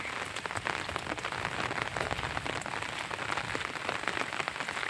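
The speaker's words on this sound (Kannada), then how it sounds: "ಮಳೆ ಭಾಳ ಜೋರಾಗ್ಯದ" Heavy rain pours down on a farm orchard in a dense, steady roar of drops striking surfaces, unbroken for the whole stretch with no voices.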